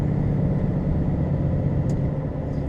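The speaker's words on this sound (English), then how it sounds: "there's the traffic, look." Road traffic heard from inside the cab of a Class 1 HGV in Accrington during rush hour: a steady, continuous low engine rumble and road hum, with no voices.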